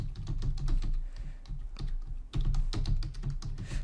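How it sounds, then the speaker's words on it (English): Close, steady typing on a computer keyboard, a dense run of quick clicking keystrokes with a short pause midway, no voices. "My keyboard is hidden under the table and it's tough to reach, but I managed to reach it."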